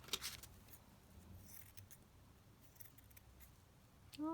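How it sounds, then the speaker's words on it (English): Scissors snip through lace on a fabric folio cover, giving a few quiet, close blade clicks and soft rustles over a faint room hush, with no one speaking. "So I'm just going to cut this lace around here."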